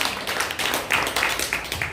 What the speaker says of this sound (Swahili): Mpe kwanza Bwana Yesu makofi mengi.